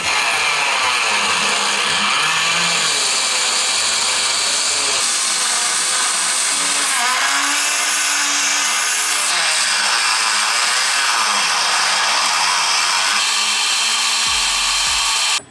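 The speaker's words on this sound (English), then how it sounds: "I'm going to use a Dremel to cut this" A Dremel rotary tool cuts through a composite swan-neck wing bracket on a BMW, a loud, continuous high-pitched grinding whine with shifting pitch as the cut progresses, running steadily close up for the whole stretch.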